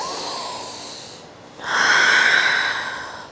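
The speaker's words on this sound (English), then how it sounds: "Take another round of breath" Slow, deep breathing during a yoga flow: a long airy exhale fades out, then a strong, close inhale follows, both breathy and clearly audible with no talking.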